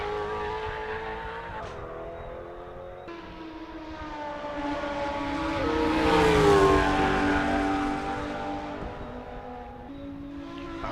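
GT2 race cars, including a Brabham BT62, lapping Mugello in a racing game, with a steady engine drone that swells into a loud, rising pass around the middle before settling back to a continuous roar.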